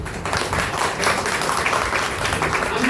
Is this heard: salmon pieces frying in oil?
no